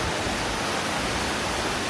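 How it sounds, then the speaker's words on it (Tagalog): A waterfall at Cat Cat Village in Sapa roars in a steady, dense, loud rush of falling water, filling the air without pause. "Yan yung waterfalls na area."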